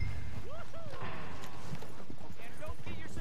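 Horse hooves clip-clop in Red Dead Redemption 2, a steady clatter of hoofbeats mixed with ranch ambience, while a voice and other game sounds run over it.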